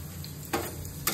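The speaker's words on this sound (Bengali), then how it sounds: "এখন একটা একটা করে আমি এগুলো ভেজে দেবো পরোটাগুলো" Parathas fry in hot oil in a pan, a steady close sizzle broken by two brief clacks of a utensil against the pan, with no one speaking.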